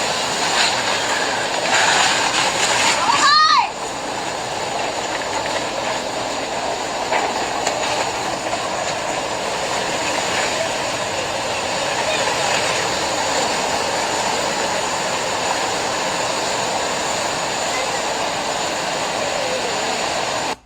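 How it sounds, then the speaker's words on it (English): Floodwater rushing loudly and continuously through Ruidoso during a flood, a broad steady roar that stays at nearly the same level throughout, with one brief sharp disturbance early on. "Flooding in Ruidoso again."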